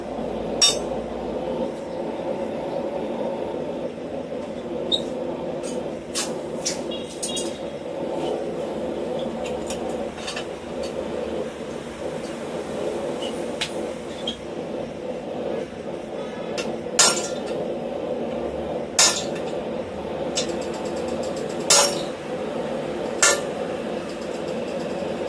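A hammer strikes steel while deepening the eyes and nostrils of a forged snapping turtle, duck or dragon head, giving sharp, irregular clinks spaced a few seconds apart over a steady low workshop hum.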